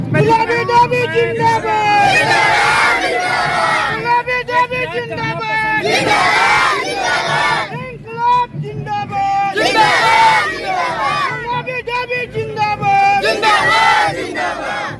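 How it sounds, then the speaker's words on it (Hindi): A large, loud crowd is gathered at a village panchayat election in India, heard as a dense roar of many voices with shouting and chanting swells and constant babble throughout. "अभी जो आपके पीछे इतनी भीड़ लगी हुई है"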